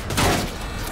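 Gunfire in the shooter Battlefield 2042, a dense burst of overlapping shots and booms filling about a second, loudest early on with a thick rumbling low end.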